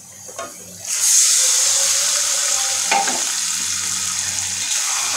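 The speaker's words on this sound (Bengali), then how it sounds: "এখন এই ভাজা পেঁয়াজ তেলের সাথে ভালোভাবে মাংস মিশিয়ে দেব।" Onions and chicken frying in hot oil, a steady loud sizzle with stirring scrapes and a brief splash near the start, no voices.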